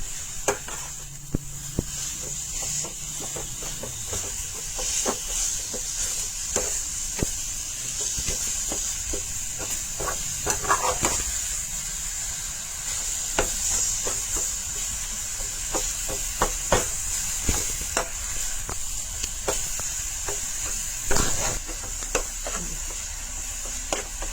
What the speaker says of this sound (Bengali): নারিকেল আর গুড়টা খুব ভালো করে মিশিয়ে এইটাতে ভাজি